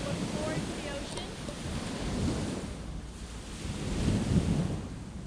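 Ocean waves surge and wash onto the coast in broad swells, mixed with gusty wind noise on the microphone, and a voice speaks briefly over them at the start.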